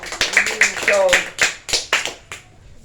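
Congregation clapping in a church, a handful of sharp, distinct claps in loose rhythm about every quarter to half second, with a voice speaking over the first half and fading near the end.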